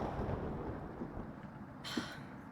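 Thunder during a storm rolls as a faint, low, distant rumble under a wash of rain, and a brief sharper crackle cuts in near the end.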